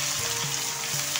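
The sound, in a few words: bitter gourd stir-frying in pan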